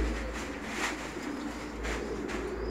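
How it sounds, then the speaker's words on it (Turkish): A male Aslanbaş pigeon coos softly and fairly close, with a few low, rolling calls over quiet background hum. "Erkek kuş ötse şöyle bir."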